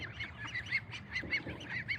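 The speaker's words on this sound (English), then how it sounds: "I'm gonna let you guys look at the little ducks" Young ducks giving repeated nasal honking calls, a string of short close calls in an uneven rhythm over a low background rumble, with no talking.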